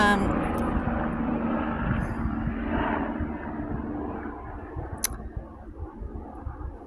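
An airplane drones overhead, its engine roar fading gradually as it passes, while a person talks quietly nearby.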